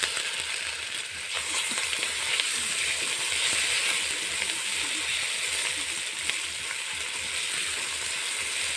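Ground cumin paste fries in a pan, giving a steady, loud, close sizzle with light stirring scrapes throughout.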